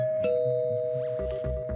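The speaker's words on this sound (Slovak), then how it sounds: "Zvonia mi fanúšikovia na môj byt." An apartment doorbell rings with a sustained electronic tone, heard close and steady, over soft low thumps and background noise.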